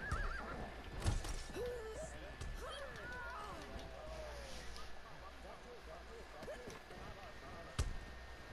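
A horse whinnies amid busy video game battle noise, with hoof clatter, thuds and people talking over it.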